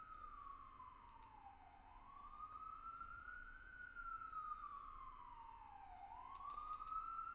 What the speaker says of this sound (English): now you can tell we're in New York. We have the very intense sirens.